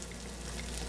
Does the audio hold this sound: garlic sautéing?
yes